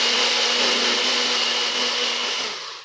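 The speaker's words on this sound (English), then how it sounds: "I'm going to blend it just a little bit more because I see it separating." A blender whirring as it blends apple cider vinaigrette made with olive oil: a loud, steady high-pitched motor whine that holds throughout and then begins to fade at the end, with no talking.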